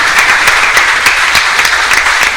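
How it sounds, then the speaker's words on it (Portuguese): Congregation applauding in a church service, a dense, steady wash of clapping from many hands filling the whole moment without a break. "dê uma salva de palmas para esse Deus maravilhoso"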